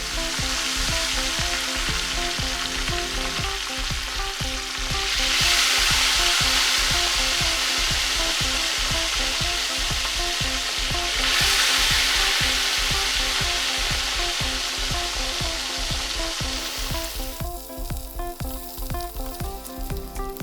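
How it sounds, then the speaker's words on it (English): Sea bream fillets frying in a preheated pan of oil for a Mauritian fish curry: a loud, continuous crackling sizzle that swells and eases over about twenty seconds, heard up close with no speech. "So in a preheated pan of oil goes the fish."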